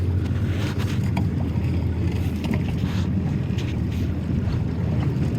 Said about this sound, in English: Wind's killing us.